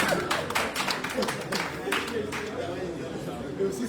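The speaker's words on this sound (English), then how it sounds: "Round of applause for this." A gathering of activists in Abuja breaks into clapping and applause, a dense patter of hands that runs steadily throughout, with voices in the crowd underneath.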